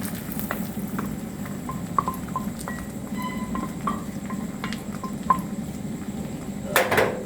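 A utensil stirring besan into ghee in a preheated pan for besan barfi, with soft intermittent scrapes and light metallic clinks against the pan, close and quiet over a low steady background hum.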